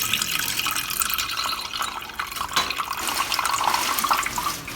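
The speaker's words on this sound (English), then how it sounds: "we're just going to put the liquid right into the pan" Beef stew liquid pours steadily into a pan in a home kitchen, a continuous splashing, trickling flow at close range with no one talking.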